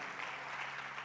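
A congregation applauds in a short, full burst of clapping that stays even and dense with no speech over it.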